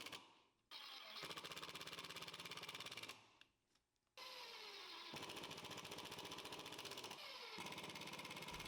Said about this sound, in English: to know exactly where to drill each of the holes